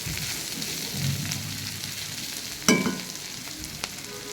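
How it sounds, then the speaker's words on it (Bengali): Sliced bitter gourd fries in oil with a continuous crackling sizzle, broken by one sharp clatter of a utensil partway through and a lighter tap near the end. "আর এদিক দিয়ে করলা ভাজি হচ্ছে করলা ভাজি"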